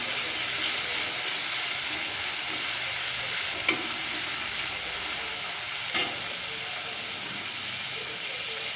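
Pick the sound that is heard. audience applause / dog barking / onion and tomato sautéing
onion and tomato sautéing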